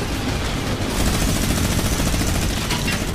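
Dense, continuous gunfire fills the whole clip, a loud unbroken barrage of shots with no pauses, like rapid automatic fire in the video game Fortnite.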